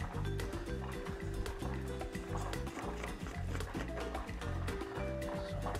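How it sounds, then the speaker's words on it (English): Color film developer is poured into a developing tank, a soft, steady trickle and gurgle that runs for several seconds beneath background music. "Pour this in."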